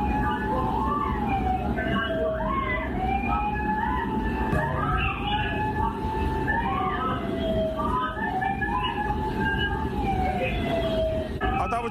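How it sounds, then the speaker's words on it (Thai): Emergency vehicle sirens wail continuously at a house fire in Thailand, their rising and falling tones repeating over a steady roar of street and crowd noise, with a voice talking faintly underneath. "ผู้ชมฟังนะเสียงหวอนะ"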